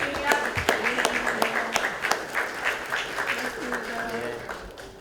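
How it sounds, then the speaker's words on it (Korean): Applause at a celebration honoring disabled candidates elected in the 8th nationwide local elections, a steady patter of clapping from a room of people lasting throughout, mixed with talk and background voices. "축하의 박수"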